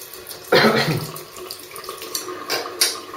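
A bathroom tap runs water while a vintage Gillette Tech safety razor is rinsed under it, a brief splashing burst followed by quieter trickling and a few short splashes.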